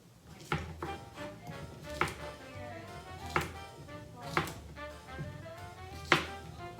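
A knife dices food on a cutting board with soft, regular chopping taps, roughly one each second, fairly quiet over low background noise.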